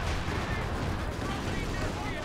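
Artillery fire in Company of Heroes, a 4v4 match on the Red Ball Express map: a continuous, loud barrage of booming blasts and rumbling explosions with dense battlefield noise throughout.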